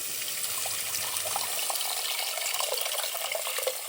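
Tamarind water being poured into a simmering curry, a steady liquid splash and trickle running continuously and close at hand, with no one talking.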